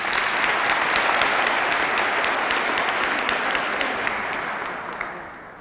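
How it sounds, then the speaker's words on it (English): Sustained applause from a crowd at a ceremony honoring women in public safety, dense clapping that holds steady and gradually fades toward the end. "let's give her a round of applause."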